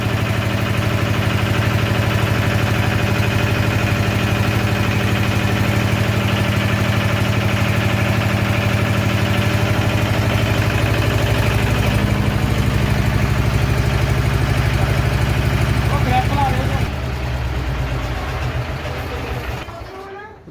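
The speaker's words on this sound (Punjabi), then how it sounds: "ਅੱਜ ਇਹ 10 kVA ਦਾ ਜਨਰੇਟਰ ਲਾਇਆ ਆ ਕੋਠੀ ਦੇ ਵਿੱਚ" A 10 kVA generator engine runs steadily in a house, a loud continuous droning hum that holds for most of the clip before its tone shifts and the sound tapers off near the end.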